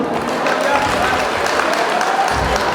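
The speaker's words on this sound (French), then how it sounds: "Applaudissez pour vous-même." A festival crowd in Burkina Faso applauds in a dense, steady wash of clapping that fills the whole stretch, fairly loud, with voices mixed in.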